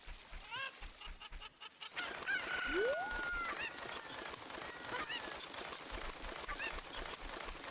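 Cucco chickens from the video game The Legend of Zelda: Ocarina of Time at Zora's River, clucking and crowing in repeated bursts over a steady rushing game ambience, fairly loud and close.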